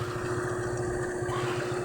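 A motor pump runs on a newly dug deep well, a steady low mechanical hum and drone at moderate level, continuous and unbroken, with no talking.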